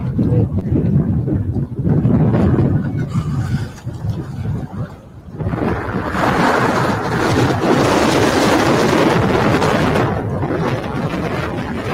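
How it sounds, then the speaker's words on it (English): Strong wind gusting outdoors at the US Capitol, buffeting the microphone with heavy low rumbling roars that ease briefly and then surge back, loud and continuous. "I don't know if you guys can hear all that wind"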